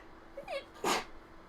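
A single short sneeze close to the microphone, a brief breathy burst after a small intake sound, in an otherwise quiet room.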